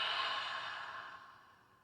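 A single long, breathy exhale during a yoga breathing exercise, soft and close, fading gradually over about two seconds.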